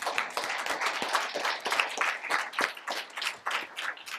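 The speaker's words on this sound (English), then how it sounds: "That's a hand clap all by itself." An audience at a Board of Education meeting claps in a crisp, uneven burst of many hands, close and fairly loud, sustained for several seconds.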